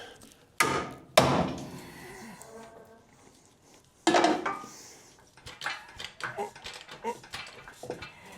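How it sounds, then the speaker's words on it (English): A few sharp metallic strikes of a hammer ring out with pauses between them, followed by clatter and scraping of tools up close, during engine and transmission removal on a Jeep CJ7. "get my hammer, keep that kind of wedged."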